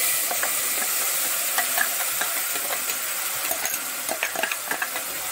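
Ground tomato, curry leaves and sambar powder with a little tamarind fry in oil in a pan for saaru, giving a steady close hiss with scattered small pops and crackles that grow busier toward the end.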